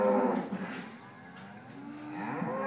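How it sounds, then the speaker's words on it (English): Dairy cows at a milking shed on a Poowong dairy farm moo close by, one long low call trailing off and another starting near the end, with no talking. "The milking cows heading away."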